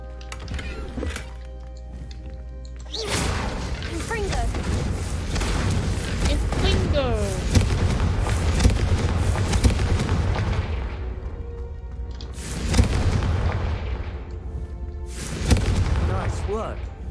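Confringo spell blasts hitting candelabras in Hogwarts Legacy, several loud booming impacts with crackling fiery tails, spread across the clip, with voices talking between them.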